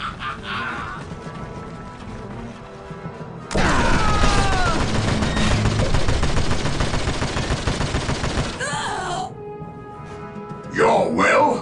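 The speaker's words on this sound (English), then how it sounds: "We are taking fire!" Sustained automatic gunfire and blasts in Warhammer 40,000: Dawn of War Dark Crusade, a dense, loud stretch of rapid shots lasting several seconds, with voiced unit lines before and after.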